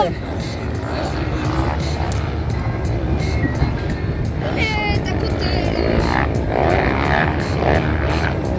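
ATV engines race through a motocross heat at Mont-Laurier, Quebec, revving and whining loudly as machines pass near and far, with an announcer talking over the engine noise.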